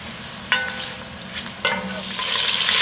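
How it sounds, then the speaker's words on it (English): Sausages browning in a hot pan sizzle steadily, with two sharp scrapes of a utensil stirring them and frying that swells louder toward the end, close up and with no voice over it. "Going in with the sausage, letting them brown."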